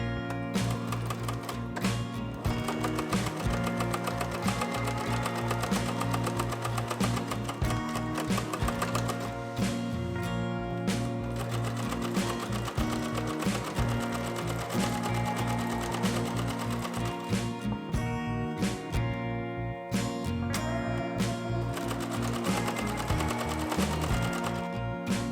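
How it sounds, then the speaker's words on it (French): A sewing machine stitching steadily for a long stretch, its fast regular mechanical hum and clatter running close and loud with brief pauses and changes of pace, with no voices. "j'arrête de parler et je vais coudre."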